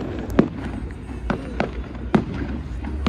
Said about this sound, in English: Clacton Pier's amazing fireworks, everybody.